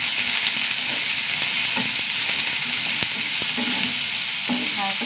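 Mustard seeds and curry leaves fry in hot oil in a pan, giving a loud, continuous sizzle with scattered sharp pops and crackles and faint stirring clicks.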